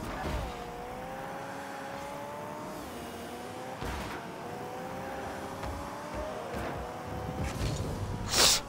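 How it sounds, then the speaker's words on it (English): A car engine in the Rocket League video game hums with a rising and falling whine, its pitch sweeping in repeated waves, with a few short bursts of impact noise and a loud hit near the end. "I like the sound of this car."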